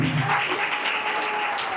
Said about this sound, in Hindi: तालियों के बाद भी मारो भाई